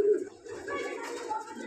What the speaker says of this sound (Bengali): তারপরে দেখাচ্ছে আমার সবচেয়ে বেস্ট কবুতর জোড়া